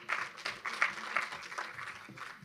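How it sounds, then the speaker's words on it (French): Scattered applause from an audience, a steady patter of clapping that rises and falls, with a few louder claps in the mix. "On peut applaudir Frédéric"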